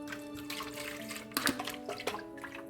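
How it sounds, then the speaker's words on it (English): Water splashes and runs while a juicer container is rinsed out in a kitchen, steady and close with a few sharper sloshes and drips, no talking. "I'm rinsing out my container as well with that same water."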